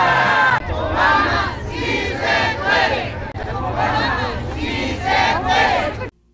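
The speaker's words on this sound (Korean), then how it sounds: "수만 명의 아시아 태평양계 이민자들의 함성은 메아리가 돼큰 울림을 남기고 있습니다" Tens of thousands of Asian Pacific immigrants rally for immigration reform, their massed voices rising in rhythmic chanted shouts, loud and dense, swelling and dipping in repeated waves over a low crowd rumble before cutting off abruptly.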